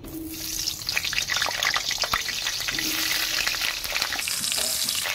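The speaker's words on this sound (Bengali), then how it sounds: "তেল গরম হয়ে গেছে, তেল থেকে ধোঁয়া উঠছে। তেলটা আমি সমস্ত কড়াইতে ভালো করে মাখিয়ে নিলাম। এবারে আমি এর মধ্যে আলুটা ছেড়ে দেব।" Potatoes dropped into smoking-hot oil in a wok send up a continuous loud sizzle with crackling bursts, and a faint tonal hum comes and goes in the background, with no speech.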